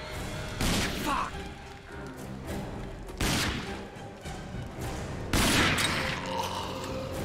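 Several loud gunshot bursts in the RAGE shooter game, three main blasts spaced a couple of seconds apart over steady game background noise.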